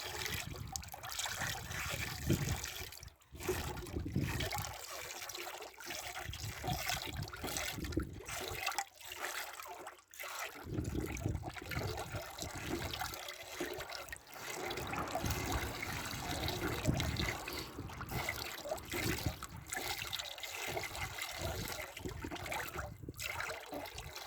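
Bordeaux mixture for garden spraying, about ten litres being stirred, a steady faint sloshing and swirling of liquid that continues without pause, no talk.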